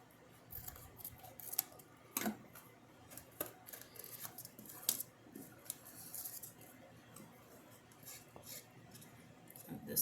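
Scissors snipping paper or card for a gift box treat holder craft, a string of faint, quiet clicks and cuts at an uneven pace with brief pauses between them.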